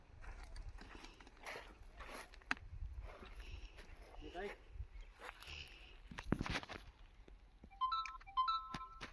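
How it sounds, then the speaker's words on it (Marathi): A mobile phone rings during a well and borewell point check, a short electronic melody of tones near the end, following scattered footsteps, handling noises and background talk. "माझा मोबाईल वाजलाय"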